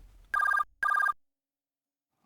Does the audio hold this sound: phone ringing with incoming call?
yes